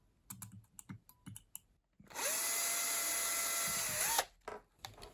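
Soft clicks and taps lead into a Bosch power drill whirring steadily for about two seconds at close range, then stopping, followed by more light tapping.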